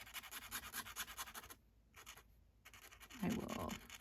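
A black 1.5 mm pen scratches across paper to darken a corner, heard as quiet, close, rhythmic strokes that pause briefly before a denser burst of scribbling.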